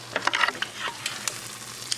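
A tuna melt sandwich with tomatoes grills in a pan, giving off a soft, steady sizzle broken by scraping and clicking from handling, busiest early and thinning out toward the end.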